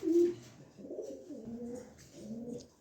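Close, soft cooing from a black checker pigeon, several low throaty coos in a row, with no talk.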